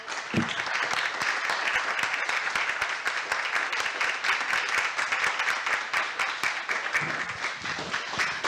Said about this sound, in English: I would like to ask that we give a big hand of applause to everyone who participated.